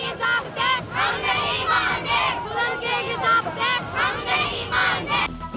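Students and parents protesting the suspension of welfare school transport in Faisalabad chant slogans while blocking a road, a loud crowd shouting rhythmic call-and-response phrases in repeated bursts.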